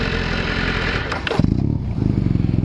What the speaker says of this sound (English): this is a stock exhaust and stuff on it, so of course it's not going to be as loud